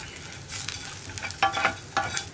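Chopped ginger fries in a pan for puli inji, a soft steady sizzle broken by several sharp scraping stirs of a spoon against the pan, close and moderately quiet, with no talking.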